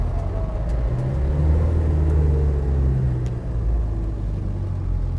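A classic Land Rover Defender 90 soft top engine on a test drive, lugging low in the rev range with a steady deep rumble and whir, close and loud inside the cabin.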